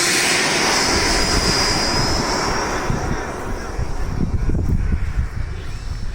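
A Stinger 90 model airplane engine drones steadily and loudly through its takeoff run in warm Florida weather, a continuous high buzzing whine with a little wind rumble, holding strong before easing slightly near the end.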